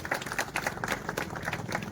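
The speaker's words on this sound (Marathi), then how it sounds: "त्यांच्यासाठी टाळ्या वाजवून त्यांचं अभिनंदन केलं" A crowd claps at an Independence Day gathering in Panvel, a dense, steady patter of many hands that sounds fairly distant and soft throughout.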